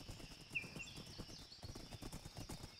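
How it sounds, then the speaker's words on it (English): Horse hooves clip-clop steadily in Minecraft, a quick, even run of soft low thuds that goes on throughout, with a thin whistling tone above and no talk. "You seem really capable of handling a horse."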